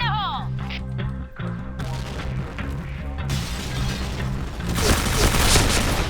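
HK-417 rifle fire in the Point Blank shooting game, loud sustained bursts of gunfire and booming impacts layered over game music and effects, with a voice talking over the action.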